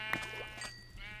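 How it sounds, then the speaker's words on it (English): A sheep bleats in modded Minecraft, a short, quiet call standing alone without talk. "Oh, another white sheep."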